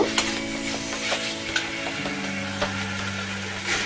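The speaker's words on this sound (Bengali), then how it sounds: "এবার এটার মধ্যে কেটে রাখা একটা টমেটো দিয়ে দিচ্ছি লঙ্কা দিয়ে একটু ভালো করে নাড়িয়ে চালিয়ে নিব" Sizzling and frying of chopped tomato and chilli in a pan with repeated scraping stirs, close by, several sharp knocks of a utensil against the pan.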